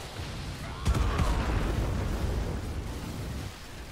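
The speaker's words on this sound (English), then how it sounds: "It will place that down and it will let the Nuke explode." A nuclear explosion in the war game Men of War Assault Squad 2 gives a sudden low boom, then a long rumbling roar. The roar stays loud for several seconds and fades only slightly.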